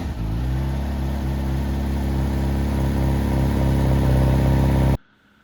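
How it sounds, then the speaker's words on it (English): A Honda Hornet 1000 SP motorcycle engine idles with a steady, muted burble and faint exhaust crackle, loud and close, running alone without talk before cutting off abruptly near the end. "Thumb the starter and the Hornet fires into a muted burble, the exhaust crackling politely at idle."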